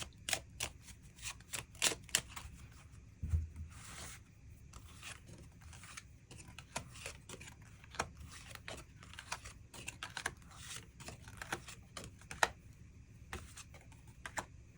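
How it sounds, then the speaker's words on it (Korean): Tarot cards are drawn and laid down in a quiet room, giving a long run of soft, irregular flicks, slides and taps close by. "그럼 이번 분들 추가 카드로 일별로 월요일부터 일요일까지 어떤 하루하루를 보내게 될지 추가 카드 뽑아보도록 하겠습니다"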